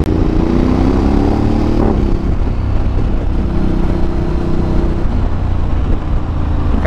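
A Ducati DesertX motorcycle engine drones steadily at close range while riding on rough, sandy ground, with a low rumble and shifting pitch as the revs change.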